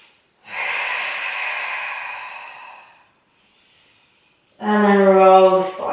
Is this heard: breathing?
yes